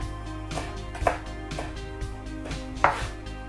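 A knife chops parsley stems and leaves on a cutting board in a kitchen, brisk close rhythmic thuds with a couple of sharper knocks.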